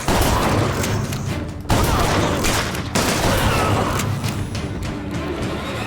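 Gunfire in BioShock Infinite, with heavy, continuous shooting and booming impacts that fill the scene, broken by brief sharp gaps, loud and close.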